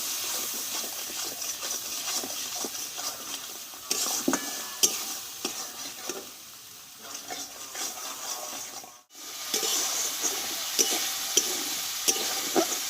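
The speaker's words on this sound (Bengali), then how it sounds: "এই মশলাটা ভালোভাবে কষিয়ে নেবো" Masala of coriander powder, Kashmiri chili powder and salt is sautéed in oil in a pan for a vegetarian green jackfruit curry. It sizzles steadily while a spoon scrapes and stirs repeatedly, with a brief break near the end.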